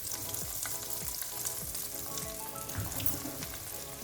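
Boiled egg and potato snacks fry in hot oil for an evening snack, giving a steady, close bubbling sizzle with occasional stirring clinks and no talking.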